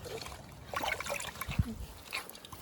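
A Washington clam is rinsed in water, giving soft trickles and small splashes with a few sloshing pops, fairly close and quiet.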